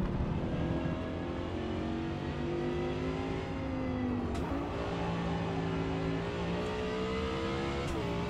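Supercar engine in the video game Forza Motorsport, a steady droning whine that rises and shifts pitch through gear changes, close and continuous with no talk.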